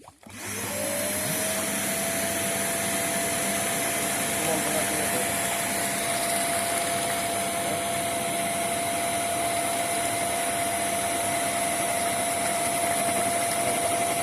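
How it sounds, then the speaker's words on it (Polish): A vacuum cleaner fitted with a pre-filter runs steadily for the whole stretch while sucking water out of a garden pond. Its motor spins up at the start and then holds a loud, constant whine with a broad rushing airflow behind it. "odkurzacz."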